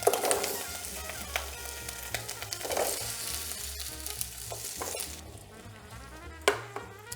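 Carrots sizzle in melted butter in a pan for glazed carrots, a close, moderate frying hiss with scattered pops and occasional stirring clinks, easing off toward the end.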